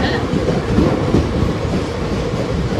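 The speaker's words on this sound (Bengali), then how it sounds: "4 মিনিটের ব্রেক নিয়ে কিন্তু ট্রেন ছেড়ে দিয়েছে" The Howrah Kalka Netaji Express passenger train running after leaving a station, a loud steady low rumble with rhythmic wheel clatter heard from on board.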